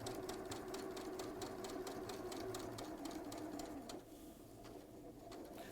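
Sewing machine stitching quilt blocks, a rapid regular needle clatter running steadily at moderate level before easing slightly near the end.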